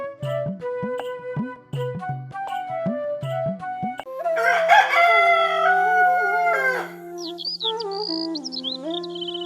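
A rooster crows loudly and close by on a village morning in coastal Konkan, a long cock-a-doodle-doo followed by clucks and other bird calls, while chirping small birds sound in between.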